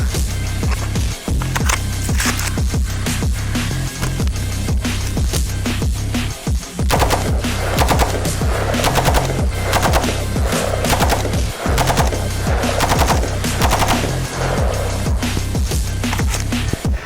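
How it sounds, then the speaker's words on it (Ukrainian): A Colt M4A1 carbine firing outdoors, loud rapid automatic bursts alternating with sharp single shots, the reports hammering close and continuous over the whole stretch. "Як бачимо, зброя працює справно і автоматними чергами, і одиночними."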